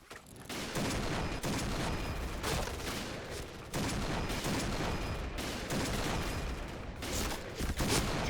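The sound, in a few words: gunfire in a shooting video game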